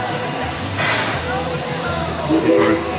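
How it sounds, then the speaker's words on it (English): A River King Mine Train roller coaster at Six Flags St. Louis rolls out of its station, a steady rumbling hiss of the train with brief bursts of rattling, under a busy crowd murmur. "And there goes the River King Mine Train out of the station."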